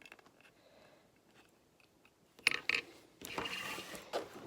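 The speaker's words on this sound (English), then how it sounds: "I'm just going to clamp this down." Clamping down a Louis Vuitton leather bag brings a few close, sharp mechanical clicks and ratcheting creaks after a quiet stretch, followed by a rough scraping rustle, with no talking.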